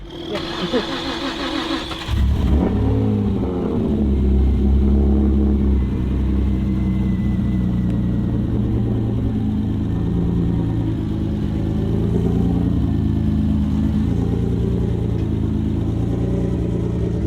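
A loud, heavily modified Nissan VQ-engined 350Z cranks and catches, then settles into a deep, rumbling idle with occasional revs, steady and close throughout.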